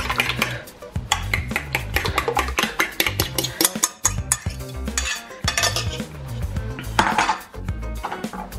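Beaten egg is mixed into vegetables in a bowl with rapid, uneven clinks and scrapes of a utensil against the dish, fairly close and without speech.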